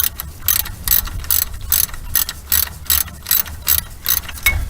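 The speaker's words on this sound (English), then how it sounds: "Helps if you get your wrench spinning the right way." Rapid bursts of ratchet clicking from a wrench tightening nuts on a Borg Warner BW1354 transfer case of a 1994 Ford Explorer, about a dozen close, loud, evenly spaced strokes.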